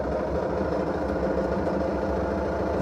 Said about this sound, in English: When I turn on the ignition and turn on the fan blowers,